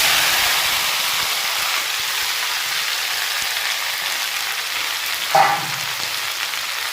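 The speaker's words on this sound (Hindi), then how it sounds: "तो जी ये हो गया तेल गरम, ठीक है। अब डाल देंगे इसमें ये भिंडी" Okra in hot oil with cumin gives off a steady, close sizzling hiss, with a brief sharper crackle flaring up near the end.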